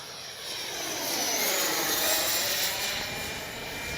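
A Freewing 80mm JL-8 RC jet, fitted with an afterburner and running on 6S power, roars steadily overhead with its gear and landing flaps down, a continuous loud turbine whine that swells and eases slightly as it passes.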